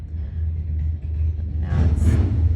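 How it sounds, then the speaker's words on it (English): Low traffic rumble seeps in from outside a painting studio, a steady distant drone with a passing vehicle swelling briefly near the end; nobody speaks. "Get some traffic noise in the background sometimes."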